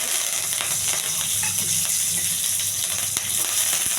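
Curry leaves tempering in hot oil in a pan, a loud continuous sizzle and hiss that stays steady from start to finish, with light crackles through it.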